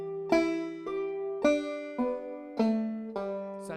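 A banjo rings out a short phrase of clear plucked notes using drop-thumb and pull-off technique, about six even bright attacks with sustained ringing tones, close and alone.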